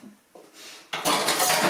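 A metal whisk scrapes and clinks against a bowl while folding spinach, starting quietly then turning into a louder, continuous scraping rasp, close up with no talking.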